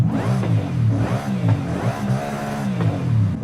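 A 2024 Ford Mustang Dark Horse supercharged engine revving hard in Forza Horizon 5, a loud close mid-pitched roar climbing and dropping in repeated throttle blips with a whirring edge, heard on its own.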